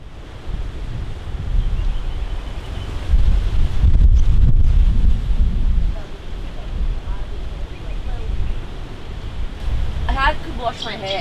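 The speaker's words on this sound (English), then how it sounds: "I could wash my hair and it would dry in 5 minutes. That's how windy it is." Strong wind roars and buffets the microphone at a Moreton Island campsite, loud and continuous with gusts swelling in the middle; a person starts speaking briefly near the end.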